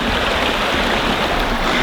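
A waterfall on a hiking trail in the Pyrenees roars nearby as a dense, unbroken rush of water, steady and loud throughout, with no talking.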